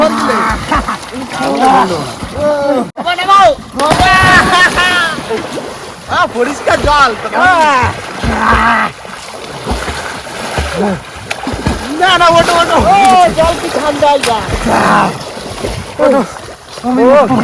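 Water splashes as people jump in to bathe in cool water outdoors in the Sundarbans, loud bursts of splashing mixed with shouting and lively talk throughout.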